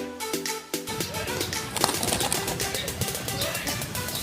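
Pigeons cooing at Fort Santiago in Manila, low soft coos repeating amid a busy outdoor mix of chatter, footsteps and general crowd noise, fairly close.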